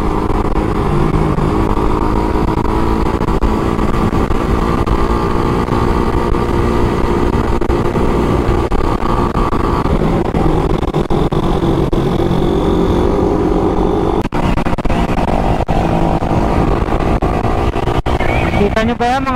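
Honda Raider 150fi motorcycle riding along a scenic road near Infanta, Quezon, its engine a steady loud drone mixed with wind rush throughout, with a brief shift in tone near the end.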